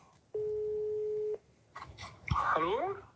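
A telephone tone plays from a sound file as a call is placed, one steady, loud beep lasting about a second, followed by a brief thump and voices talking.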